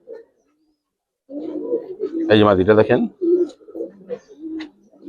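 Giribaz pigeons cooing, a female among them, in a few throaty bursts close by, the loudest burst in the middle, with someone talking over the calls.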